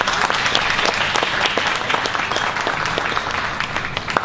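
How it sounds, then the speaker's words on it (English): Audience applause at a boxing press conference, a dense, steady patter of many hands clapping throughout, fairly loud with no talking over it. "can we have a round of applause?"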